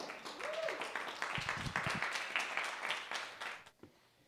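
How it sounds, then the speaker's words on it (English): Audience applause at a CORE Mixer networking event following a speaker's introduction: steady, moderately distant clapping from a room of people for several seconds, tapering off near the end, with faint voices mixed in. "can we give another round of applause for this amazing woman?"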